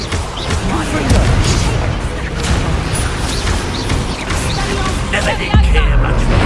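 Fiery Confringo explosion spells burst in combat in Hogwarts Legacy, loud crackling blasts and rumbling impacts in a busy fight, with a heavy boom near the end and voices in the mix.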